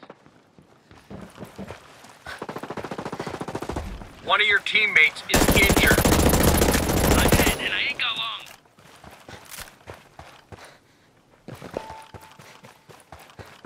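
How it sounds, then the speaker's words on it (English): Gunfire crackles in the tactical shooter Ghost Recon Breakpoint, with bursts of rapid automatic fire and loud sharp shots between quieter stretches, interspersed with footsteps and a voice speaking over the game. "I hear gunfire."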